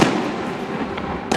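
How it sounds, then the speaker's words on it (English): Fireworks bursting outside a football stadium in Green Bay, Wisconsin on game day, with a sharp crack at the start and another at the end, separated by a booming, echoing rumble from a distance. "hear the fireworks going off in the stadium"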